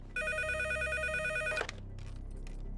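A telephone rings on an outgoing call with a steady repeating electronic trill that stops after about a second and a half, followed by a click and faint background noise.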